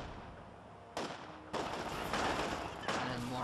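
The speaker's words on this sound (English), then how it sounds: "might as well make a machine gun, so you can see how machine gun looks like" Machine gun fire in Company of Heroes 2, a World War II strategy game, with dense bursts starting partway in and continuing over a steady battle din, fairly close and loud.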